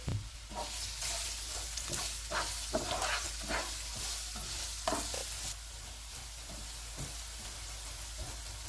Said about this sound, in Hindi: चूल्हे को फुल रखेंगे और इनको 2 मिनट तक भूनेंगे।